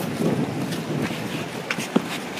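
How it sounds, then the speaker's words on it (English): Strong wind buffets the microphone in a steady roaring rush, with a couple of brief knocks. "Oh my gosh, so windy."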